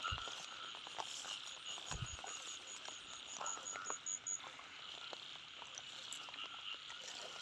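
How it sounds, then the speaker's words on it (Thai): Frogs croak repeatedly in the distance against a quiet rainy night background, with short rhythmic calls and a faint high buzzing chirp. "เสียงกบ"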